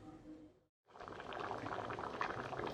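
Overripe tomatoes simmering in a pot as they cook down into puree, a steady bubbling, gurgling boil heard close up, briefly cut to silence before resuming thicker and louder for the rest.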